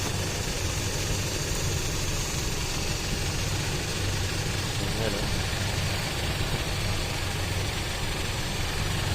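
Toyota Tamaraw FX with a 7K engine idling, a steady low, even rumble that runs unchanged throughout, with faint talk mixed in.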